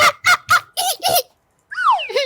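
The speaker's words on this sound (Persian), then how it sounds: "حسینات غاز" A goose honks in a golf video game: five quick, loud, nasal honks in a row, a short pause, then two more drawn-out, bending calls, clear and close with no talk over them.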